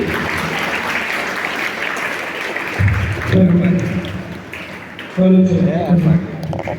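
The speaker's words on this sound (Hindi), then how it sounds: "सौरभ सर कितनी जोरदार तालियां सभी को और से आनी चाहिए।" Audience applause at a school Independence Day celebration, a steady broadband wash of clapping running throughout, with loud amplified speech-like tones breaking in over the second half.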